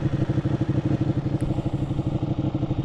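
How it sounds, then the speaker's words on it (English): A motorcycle engine chugs close by with a fast, regular pulsing throb, with a low rumble of wind noise beneath it. "it might be picking up a lot more engine noise, maybe a lot more wind noise"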